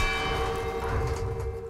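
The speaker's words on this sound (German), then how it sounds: "Macht aber ein ganz schönes Geräusch, muss ich sagen. Schöne Glocken." Church bells ringing in the video game Resident Evil 4, a few sustained metallic tolls with long overlapping resonance, fairly quiet and alone.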